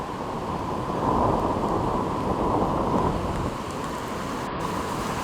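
Steady rain falls on a sandy beach the day after a typhoon, a dense, even hiss with a low rumble of wind underneath, continuous and fairly loud throughout.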